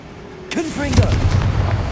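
The Confringo blasting spell in Hogwarts Legacy goes off with a sudden sharp burst, swooping whistling tones and a deep rumbling boom that lingers and decays.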